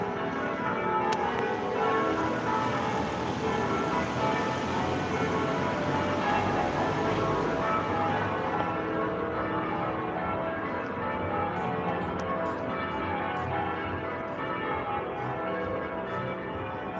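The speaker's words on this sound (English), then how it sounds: "Bell ringers are in tonight." Church bells rung by bell ringers in the evening, a steady continuous wash of pealing that sounds somewhat distant and fills the whole stretch without any talk.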